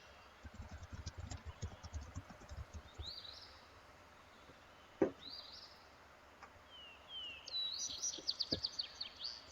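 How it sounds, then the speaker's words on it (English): A recorded track of bird songs playing quietly, with scattered chirps and tweets, a sharp knock midway and a busier burst of twittering calls toward the end. "Let me know if the bird songs get too repetitive"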